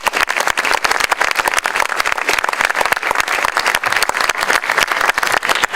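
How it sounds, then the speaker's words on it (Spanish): Applause at a cultural inauguration ceremony, a crisp, close burst of many hands clapping briskly and continuously, loud and unbroken for several seconds. "Aplauso para Catherine, por favor."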